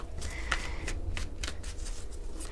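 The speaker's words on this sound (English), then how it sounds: "while I'm shuffling, this is a general reading for all Virgos" Tarot cards being shuffled by hand, a steady papery riffling and flicking that runs continuously and close up with no talk over it.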